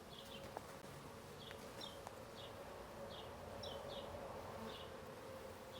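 Honey bees buzz around an open beehive during an inspection, several faint passes drifting close and away over a soft outdoor background, with no talking.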